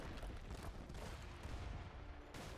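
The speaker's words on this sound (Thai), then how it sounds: "ปืนใหญ่ยิงเข้าไปครับ" Cannon fire in Age of Empires III, a dense rumbling barrage of booms with overlapping gunshot-like blasts, steady and low in level throughout.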